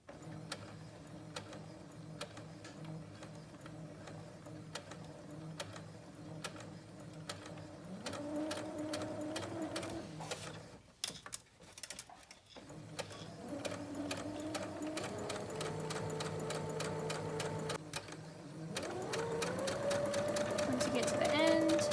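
A sewing machine runs in bursts as it stitches fabric during a sewing class, its motor whirring steadily with short pauses and restarts, gradually louder, with a person talking over it.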